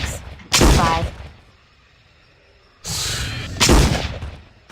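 Two loud 12 gauge shotgun blasts fire in the video game Trespasser, each a sharp boom with a trailing decay, separated by a quiet pause of about two seconds.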